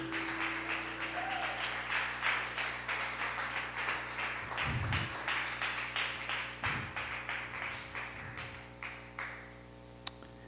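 Church congregation at a Friday service claps in a steady rhythmic beat, moderately loud and regular, with a few low voice sounds mixed in before the clapping fades.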